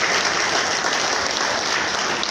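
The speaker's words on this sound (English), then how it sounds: "that applause is too small for Honorable Commissioner" Audience applause for the Honorable Commissioner at a governor's media chat, a steady, dense burst of clapping that fills the whole stretch without pause.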